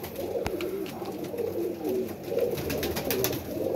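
An old Rampuri pigeon coos in repeated low rolling phrases, close and fairly steady, with a sharp tap near the start and soft rustling from the loft around it.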